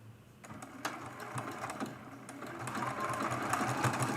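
Sewing machine running steadily at close range with a fast mechanical whirr and regular needle clatter, stitching a leaf stem on a Thanksgiving mug rug at a 2.8 stitch width; it speeds up slightly and no one talks.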